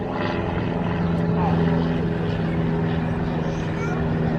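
A small propeller airplane droning steadily nearby, a loud continuous engine hum with tonal buzz, while people talk over it.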